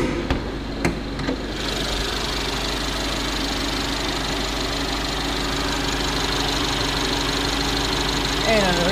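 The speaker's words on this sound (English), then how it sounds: "under the hood you got nice Mercedes engine, kind of nice and smooth, nice and strong." A Mercedes CLA 250 with a 2-liter engine idles steadily, a constant low mechanical hum from start to finish, with a few brief knocks near the beginning.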